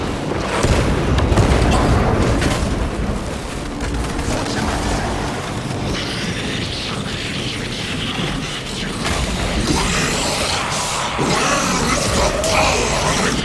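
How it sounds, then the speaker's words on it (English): A frag grenade blows up in the Warhammer 40K Space Marine 2 game, a dense, roaring blast and rumble that stays loud for the whole stretch, with battle noise mixed in. "Deploying frag grenade!"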